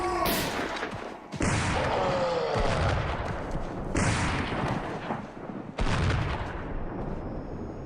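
Russian soldiers firing guns into a remote cave, heavy bursts of loud gunfire that repeat in several sharp volleys with brief gaps between them.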